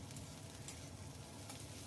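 Finely chopped green chilies and cubed beans sizzle and fry lightly in a pan for oats khichdi, a steady, faint crackling hiss with occasional stirring clatter, heard alone without voices.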